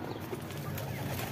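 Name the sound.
pigeons in a cage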